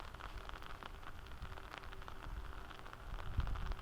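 Steady rain falls in a continuous soft hiss of fine patter on an outdoor course with chains, faint and even from start to finish.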